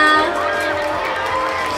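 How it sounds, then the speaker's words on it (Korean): Big crowd roar and cheering at the 6th Asia Song Festival in Seoul, a loud sustained wash of voices and applause with an announcer talking over it. "Give them a big applause."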